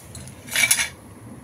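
Golden-brown fried potato pieces being moved into a dish, one brief metallic clink and scrape of utensil against the dish over a low background hum.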